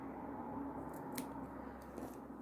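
Scissors snip through a strip of white Clarity Stamp paper offcut indoors, a few short crisp cuts close up over a steady low background hum.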